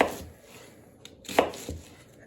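A D2 steel flipper folding knife chopping onion on a cutting board, giving a few close, crisp chops and board knocks in a quiet room.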